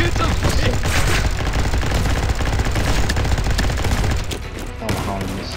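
Dense, continuous gunfire from a minigun in the Combat Master video game, loud and near, a sustained roar of rapid shots that eases slightly toward the end.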